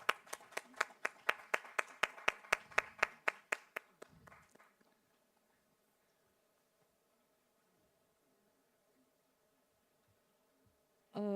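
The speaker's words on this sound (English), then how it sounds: "Can we have a round of applause?" A conference audience claps in a quick, even rhythm of sharp, close hand claps for about four seconds, then fades to a quiet room hum.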